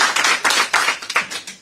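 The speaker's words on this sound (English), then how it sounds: "I'll wait till the clapping's done" A town hall audience claps loudly and steadily, a dense wash of many hands close by with uneven swells, and no talking over it.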